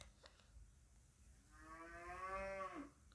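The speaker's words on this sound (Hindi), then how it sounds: "देखो भैंस की आवाज़ आ रही" A buffalo moos once in the distance, a long drawn-out low call rising and then fading, heard faintly over quiet room noise with no talking.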